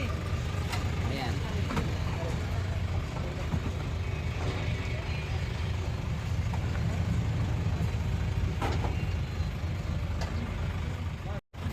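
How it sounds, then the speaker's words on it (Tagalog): A 4x4 mini dump truck's diesel engine runs steadily and close by in a vehicle trading lot, a continuous low rumble that holds to the end, with people talking over it. "Ito ang kanyang engine mga boss oh"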